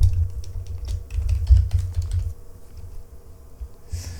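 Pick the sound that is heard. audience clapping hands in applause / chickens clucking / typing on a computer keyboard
typing on a computer keyboard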